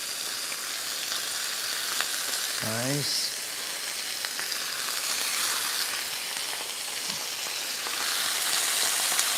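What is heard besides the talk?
seasoned chicken sizzling as it is laid in the pan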